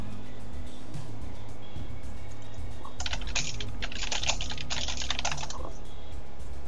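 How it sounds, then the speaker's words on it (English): Rapid keyboard typing, a quick burst of clattering keystrokes in the middle, over a low steady background hum. "I can hear your lightning keyboard, your lightning fast keystrokes."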